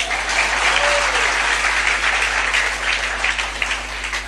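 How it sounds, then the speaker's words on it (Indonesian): An audience claps together in a dense, steady applause that fills the whole stretch at an even, loud level, with no speech over it. "Tepuk tangan dulu."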